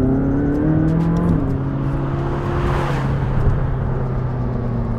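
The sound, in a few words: McLaren 600LT accelerating, turbos spooling up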